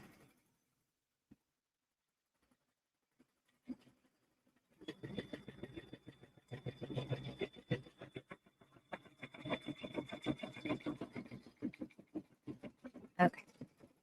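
A sewing machine stitches an appliqué block for a bike and bird quilt design, starting after a few quiet seconds of small handling noises and then running in a steady, fairly faint rhythmic whir.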